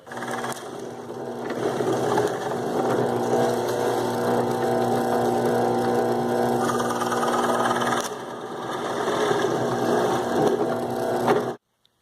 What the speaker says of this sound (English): I'm just drilling these smaller holes most of the way through, and then I'll flip the board over and come through the other side of it.